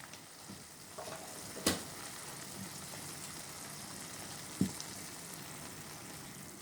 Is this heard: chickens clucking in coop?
no